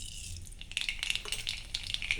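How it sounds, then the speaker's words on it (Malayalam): Mustard seeds dropped into hot coconut oil, scattered tiny crackles and pops building after a moment, light and close, continuing steadily. "കടുക് അങ്ങോട്ട് ഇട്ട് കൊടുക്കാം."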